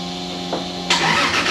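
A Toyota Supra fires up after a transmission rebuild: a brief cranking burst, then the engine catches with a loud roar and settles into a close, steady idle.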